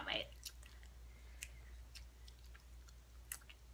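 Someone chews a Bean Boozled jelly bean, 4th edition, with soft, wet, squishy mouth sounds and faint ticks close to the microphone, quiet and intermittent over a low hum.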